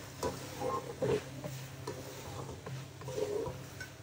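Pasta is stirred into a chicken sauce in a pan, with soft scraping and wet squelching from the spoon, a few brief clinks against the pan, and a faint sizzle underneath, quiet and close.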